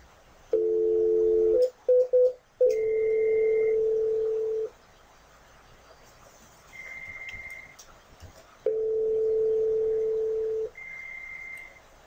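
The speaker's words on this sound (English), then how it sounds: "Now using ephone 1, I'm going to call ephone 2." An IP phone places a call to a second IP phone on a lab setup: a steady dial tone, a few brief keypad tones, then repeated ringback beeps separated by short silences, clear and close with no talk.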